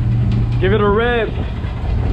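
A car engine idles steadily and then gives one quick rev that rises and falls in pitch over about half a second before dropping back to idle, heard close by.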